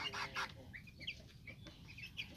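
Mini Cochin chicks cluck in short, broken bursts, a couple of louder calls up front followed by softer scattered clucks close by.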